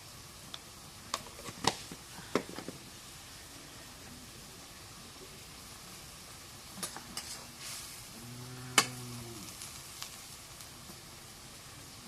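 Spices with turmeric frying in a pan: a faint, steady sizzle under scattered clicks and taps of a spoon stirring, with a brief animal-like tone partway through.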